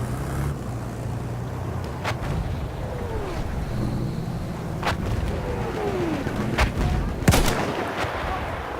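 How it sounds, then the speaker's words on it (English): Enemy artillery barrage in the video game Battlefield 1: repeated heavy booming blasts and sharp cracks over a low rumble of battle noise, with distant whistling rounds and no voices. "enemy artillery barrage to stop firing. Artillery barrage."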